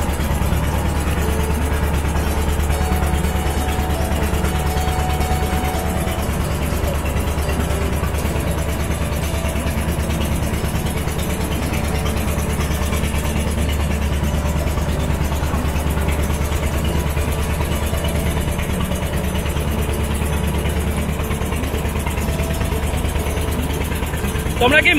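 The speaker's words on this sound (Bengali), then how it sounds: "আমাদের নৌকা এখন মূল নদীর দিকে ফিরে যাচ্ছে" A motorboat engine drones steadily as the boat heads back from an island channel toward the main river, a constant low mechanical hum with a faint rattle running throughout, with a voice talking over it.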